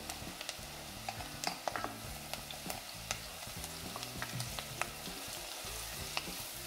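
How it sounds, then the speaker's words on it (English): Ginger and garlic frying with onions in a pan on low heat for corn biryani, a steady soft sizzle with scattered crackles and pops, close and unbroken, a low background hum underneath. "We'll fry the ginger and garlic together with the onions on"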